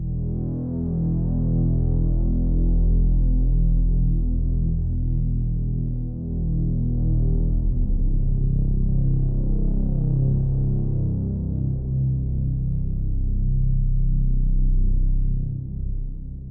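A loud, dense drone preset from a free synth plugin throbs and swells steadily, its pitch shifting from E down to C and drifting slightly out of tune, with no voices over it.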